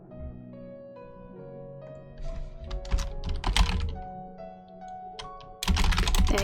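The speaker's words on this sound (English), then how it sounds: "I hope the keyboard noises aren't too annoying, guys." Rapid clacking keystrokes come from a cheap, loud computer keyboard, bursts of typing close to the mic with irregular pauses and a heavier thunk near the end.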